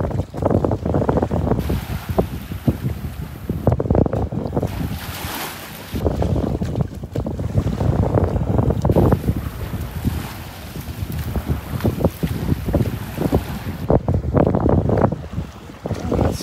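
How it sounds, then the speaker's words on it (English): Strong wind roars over open water beside a small boat off Sand Dollar Island near Marco Island, Florida, with choppy waves slapping and continuous gusty buffeting on the microphone. "A little windy out here"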